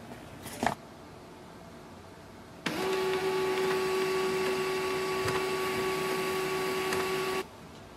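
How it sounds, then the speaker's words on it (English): An HP LaserJet M208dw printer restarts: a short click, then a steady mechanical whir with a strong sustained tone runs for about five seconds before cutting off abruptly, close and moderately loud. "Wait for the printer to restart and go into the setup mode."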